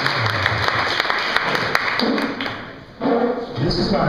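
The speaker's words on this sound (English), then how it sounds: "So let's give a big round of applause to Tim." Brief audience applause for a presenter at a live talk, with scattered claps and thuds mixed with some voices, cutting off abruptly near the end.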